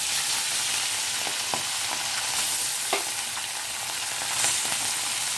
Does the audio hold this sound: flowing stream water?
no